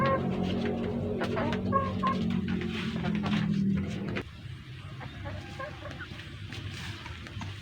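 Chickens cluck softly nearby amid an outdoor background hum, with occasional short bird calls scattered through.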